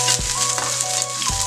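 Garlic sautéing in a pan for chili pork belly mechado, giving a steady close sizzle with a few brief stirring clanks.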